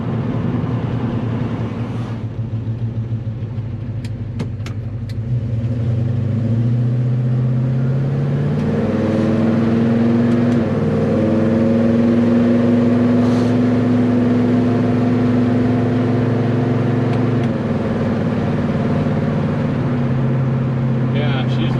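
A 1970 Chevelle with a Holley double pumper carburetor cruising at light throttle, its deep engine drone rising and shifting in pitch through gear changes, loud and steady inside the car.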